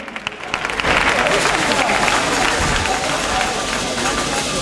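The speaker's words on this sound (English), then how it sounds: "A round of applause for them." Crowd applause rises at a political launch event and holds steady, a dense wash of clapping from a large gathering with some voices mixed in, loud and sustained throughout.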